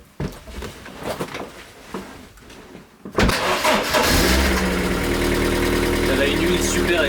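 An old convertible's engine cranks and fires at about three seconds, then settles into a loud, steady idle with a low, even rumble. Cold, very thick oil is in the engine. Someone talks quietly before it starts.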